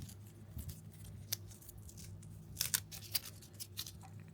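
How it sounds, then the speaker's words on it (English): Tape peeled in short crackling tugs from a crashed GepRC Cinelog35 V2 FPV drone, several sharp rips clustered together over a steady low hum, close and fairly quiet. "let me take the tape off."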